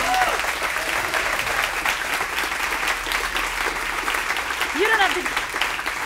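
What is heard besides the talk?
audience clapping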